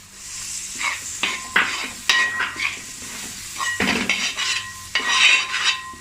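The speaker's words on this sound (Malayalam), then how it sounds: "നമുക്കിതിലേക്ക് തക്കാളിയും പച്ചമുളകും ചേർത്ത് കൊടുക്കാം." Tomato and green chili added to frying masala for Idiyappa chemmeen biriyani, with sizzling and frequent clattering metal spoon stirs and scrapes against the pan, close and fairly loud, no talk.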